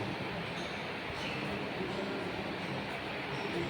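Steady ambience at an elevated metro station above Rabindra Sadan, with a continuous low rumble of rail traffic and broad background noise holding at moderate level throughout, without clear talk.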